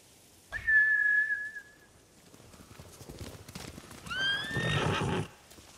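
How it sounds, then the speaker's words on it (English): In the video game Ghost of Tsushima, a samurai horse whinnies loudly and clearly near the start, followed by a stretch of hoofbeats, then a second shrill neigh with snorting toward the end. "Bastards scared off the horses."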